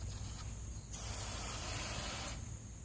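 QP-On 2.0 ceramic coating spray fires in one steady hiss lasting about a second and a half, close to the microphone, over quiet background noise.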